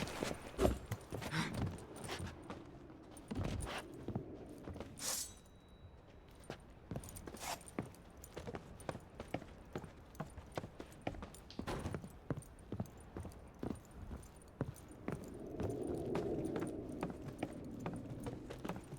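Rhythmic clip-clop of horse hooves on hard ground in the video game The Witcher 3, sharp repeated strikes at a steady trot with a faint jingle, moderately close and without voices.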